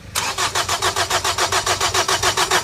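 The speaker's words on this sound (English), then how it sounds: "here it's turning over quite freely, okay, with the 2 cars connected to it, but there's absolutely no sign of it wanting to start" A 2004 Honda Accord 2.2 i-CTDi diesel engine cranks over freely without firing, a loud, close, even rhythmic churn of starter pulses about five per second that never catches.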